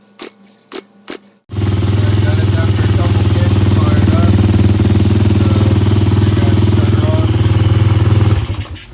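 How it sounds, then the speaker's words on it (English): A Piranha 140cc engine on a freshly rewired bike fires up after a few short cranking bursts, then idles loudly with a fast, rattly putter before cutting off abruptly at the end. "I'm gonna put the key on and see if she'll fire up."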